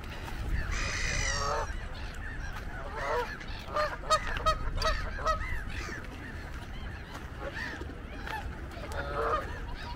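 Flock of many mixed birds, pigeons among them, in central Stockholm on a sunny day, a dense chorus of honks, calls and chatter over steady outdoor city noise, some calls close and loud, others further off.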